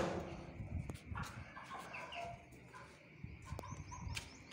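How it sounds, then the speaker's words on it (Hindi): Chickens clucking on a farm after being let out of their overnight coop in the morning, with scattered calls and short squawks over a steady outdoor background, fairly close and moderately loud. "मुर्गों को खोलता हूँ।"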